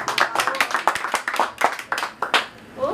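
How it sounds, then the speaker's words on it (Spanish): Rapid, loud hand clapping from a small party crowd at a birthday celebration for Olga with a juvenile mariachi group, steady irregular claps throughout with brief voices mixed in. "palmas para Olguita"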